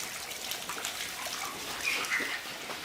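Water gushes steadily from a poultry nipple drinker pipe on a broiler farm, a continuous hissing, splashing flow at close range with no talk over it.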